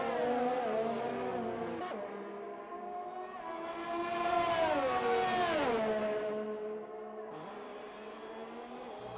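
McLaren race car on a flying lap of the Austrian Grand Prix circuit in a racing video game, its engine note holding steady, then rising and falling through gear changes across the lap, loud and continuous with no talk.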